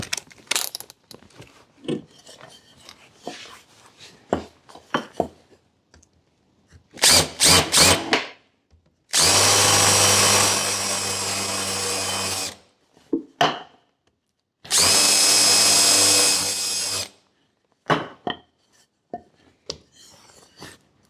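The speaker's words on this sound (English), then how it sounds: "counterbore those holes, and then we'll drill the 2 holes that we need for the attachment to the mower deck" A power drill counterboring holes in a part for a mower deck attachment on a leaf vac, two long steady whirring runs of several seconds each, preceded by short trigger bursts and surrounded by handling clatter.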